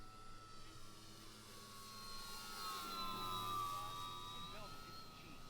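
An OMP Hobby Challenger RC plane with a 3-cell battery flies at half throttle in light wind, its faint, distant electric whine holding a steady pitch that rises and falls slightly as it passes.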